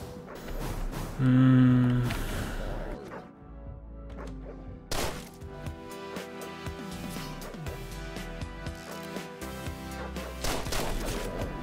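Gunfire rings out in the zombie shooter game Deadbolt, with a few sharp shots and impacts scattered over a busy backdrop of game sounds and music.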